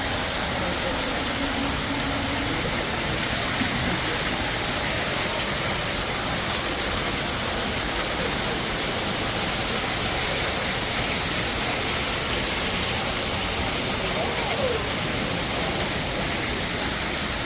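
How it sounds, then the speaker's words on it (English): Indoor waterfall inside a Bass Pro store, a loud, steady rushing roar of falling water that fills the space without pause. "This is the waterfall. One of many in this store."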